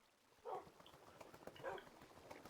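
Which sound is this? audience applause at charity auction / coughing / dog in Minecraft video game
dog in Minecraft video game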